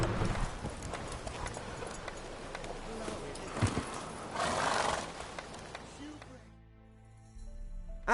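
A horse ridden in The Witcher 3 gallops with rapid, close hoofbeats, snorting and a whinny, mixed with game noise and a voice, before the hooves stop and music takes over near the end.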